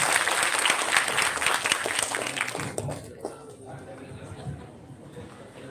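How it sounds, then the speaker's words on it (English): Audience at a 2024 guest lecture gives full, dense applause for about three seconds before it thins out into scattered claps and low murmuring chatter in the hall. "Please give applause."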